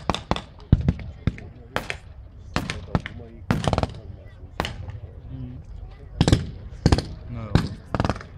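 Sharp booming shots from a WWII battle reenactment, including an early-version T-34 tank firing its cannon, crack out repeatedly at irregular intervals with a crowd murmuring beneath.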